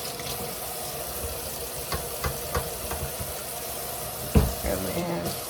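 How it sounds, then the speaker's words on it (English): Water runs steadily from a sink tap for handwashing before food preparation, a continuous close hiss with faint background clatter and a brief knock near the end. "get you some water going."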